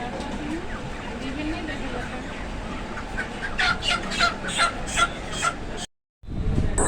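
Broiler chickens at a busy poultry market cluck and squawk in a steady chatter, rising in short louder calls near the end, with market noise and voices around them.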